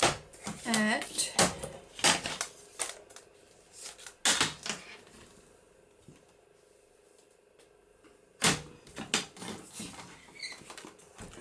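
Paper is cut to size for a Christmas journaling card, giving sharp clicks and brief sliding scrapes at close range. A person talks quietly between and over the cutting sounds.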